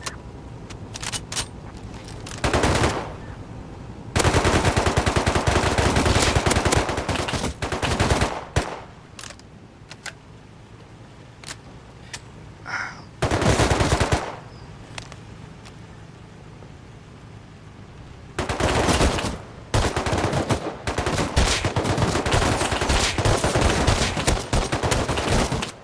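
Bursts of automatic gunfire in the survival game Rust, long sustained volleys alternating with short rattling bursts and quiet gaps, loud and close with no talking.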